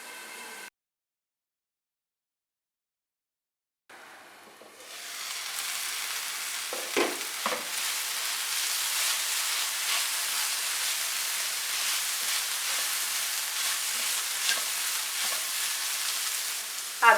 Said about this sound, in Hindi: अब चिकन को कवर करेंगे और तकरीबन 4 से 5 मिनट के लिए पकाएंगे